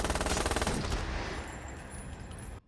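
Rapid automatic gunfire from the film Wrath of Man, a fast rattling burst of shots that thins out and trails off into a fading echo before cutting short.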